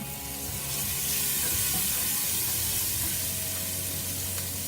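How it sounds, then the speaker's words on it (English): Onions that have cooked for several minutes until translucent, now joined by garlic, fry in a pan with a loud, continuous close sizzle and occasional stirring. "our onions are starting to get a little bit translucent now. They've been cooking for about 6-7 minutes."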